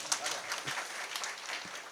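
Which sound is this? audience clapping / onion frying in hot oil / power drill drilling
audience clapping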